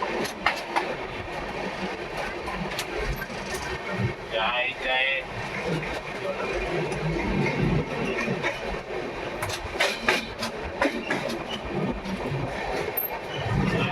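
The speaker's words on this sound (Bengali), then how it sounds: "আমাদের ট্রেন কটক ছেড়ে বেরিয়ে চলে আসলো।" Shalimar Express train rolling along the rails after pulling out of Cuttack, heard from inside as a steady rumbling roar with intermittent wheel clicks and rattles, constant for the whole stretch.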